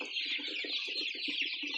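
Young Andijan black chickens about two months old cluck and peep in a dense, busy chorus, with short rhythmic low clucks under a constant high chirping, fairly close and without speech.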